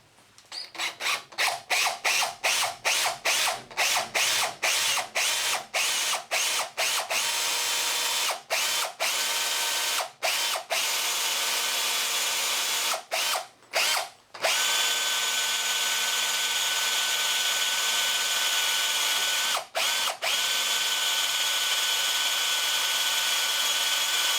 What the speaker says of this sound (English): I've now swapped to a larger diameter drill bit.